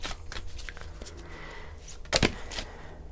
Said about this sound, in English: I'm going to lay 3 cards face down on the table